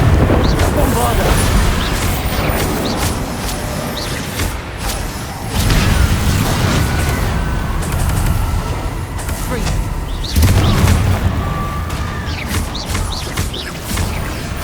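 Bombarda spell explosions in the game Hogwarts Legacy, heavy rumbling blasts that swell repeatedly over continuous game noise, with faint voices and effects underneath.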